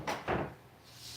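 An old 1980s oak kitchen cabinet door being handled, giving two soft knocking bumps close together near the start, then a faint hiss of room noise with no talking.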